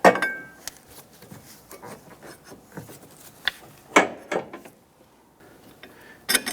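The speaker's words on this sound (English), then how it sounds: "Install the strut tower cross brace." Metal parts knocking and clinking as a strut tower cross brace is fitted under the hood of a 2005-2007 Ford Five Hundred: scattered sharp taps and scrapes, a few louder clanks between quiet gaps, close by, with no talk.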